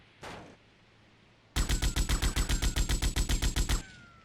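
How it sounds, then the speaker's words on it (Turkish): M60 machine gun firing in GTA Vice City: one short burst-like shot, then a rapid string of about twenty loud, evenly spaced rounds over two seconds, alone with no talk. "M60 ile bizi vuruyordu."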